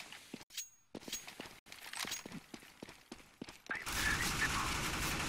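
Rapid bursts of gunfire ring out in a Counter-Strike match, sharp repeated shots in quick succession with brief gaps, growing into a denser, louder barrage near the end.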